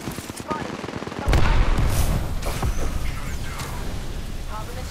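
Apex Legends gunfire bursts in rapid automatic volleys, loud and dense from about a second in, with clattering battle noise layered underneath and dialogue mixed in.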